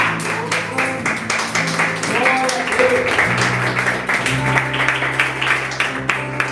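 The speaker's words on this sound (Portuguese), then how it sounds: "Você pode aplaudir a Jesus por essa palavra?" Church congregation applauding, a dense wash of many hands clapping steadily throughout with crowd voices mixed in, fairly loud and sustained under musical tones.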